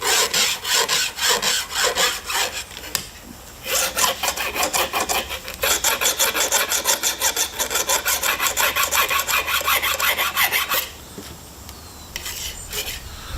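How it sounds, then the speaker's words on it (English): A flat file scrapes a burr off the groove of a chainsaw bar in quick, even rasping strokes. The strokes run close and loud for over ten seconds, with a short pause early on and a break near the end. "with a flat file, just file that burr off"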